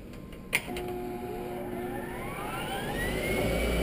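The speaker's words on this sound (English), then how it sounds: "So now I'm going to turn the blower on again." A lab blower for an airflow experiment switches on with a click, then spins up into a steady whirring roar as its rising whine climbs in pitch and the sound swells louder, with no voices heard.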